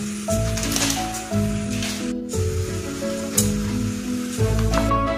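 Cut pav sizzles in ghee with a continuous wet hiss and squishy crackle, close and fairly loud, with some tonal background sound running beneath.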